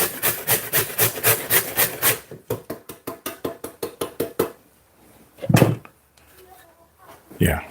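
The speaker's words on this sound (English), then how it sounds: "I'm grating the carrots." Carrots are grated by hand for a steak and noodle stir-fry, a fast rhythmic series of rasping strokes that slows and fades, followed by a louder thud and scrape. A person talks over the grating.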